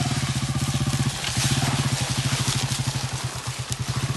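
A motorcycle engine runs steadily on a rural road trip in an agricultural area of Côte d'Ivoire, its low pulsing beat close and continuous throughout.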